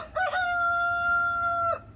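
A rooster crows once, loud and close, a long sustained cock-a-doodle-doo held steady for over a second over faint background noise.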